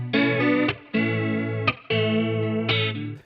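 A guitar loop runs through a WA-C1 chorus pedal, with sustained chords in three long phrases that give a shimmering, slightly distorted modulated tone. No voice is heard.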